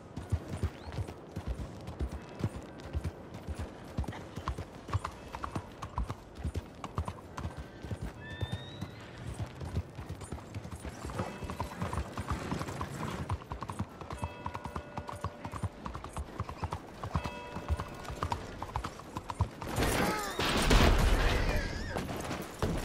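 In Red Dead Redemption 2, a horse's hooves clip-clop steadily at a walking pace amid an outdoor game soundscape, with faint music and a brief burst of louder noise near the end.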